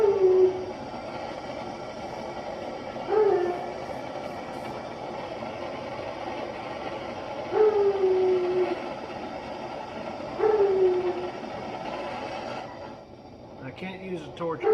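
A loud Hound Dog torch roars steadily while used for a Suzuki GS550 fuel sender repair, a constant broadband rush broken by a few short, recurring tonal chirps.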